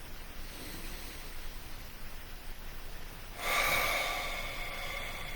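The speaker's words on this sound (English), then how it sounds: "Please take a nice deep breath." A slow, deep breath drawn in over a faint background hiss, swelling into a louder, airy rush of breath near the end, close and alone with no talking.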